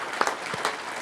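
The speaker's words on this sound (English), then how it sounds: "Please give them a big round of applause." A brief burst of applause from an audience at a public safety awards ceremony, honoring participating agencies, with scattered claps rising and settling over about a second at moderate volume.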